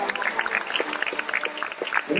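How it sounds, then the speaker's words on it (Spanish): A crowd gives dense, steady applause at the close of a dolphin show at Loro Parque, filling the whole moment with clapping at an even level and no break. "Consideramos ese fuerte y merecido aplauso de despedida."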